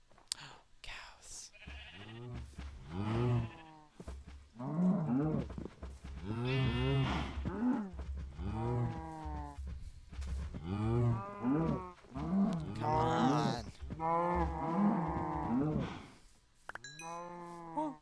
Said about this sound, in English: Cows.